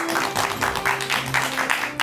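Studio audience applauding a guest laughter therapist, a short swell of clapping with a steady hum running underneath.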